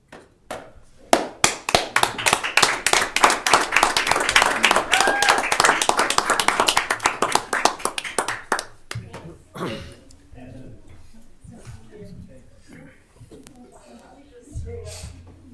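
Audience at a city council meeting clapping, a dense burst of applause that thins into scattered claps, followed by quieter room sounds and talk.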